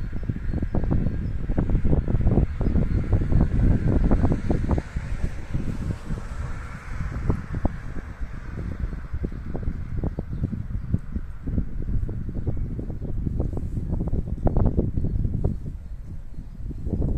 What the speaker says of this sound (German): Es ist ganz schön hier am Winden.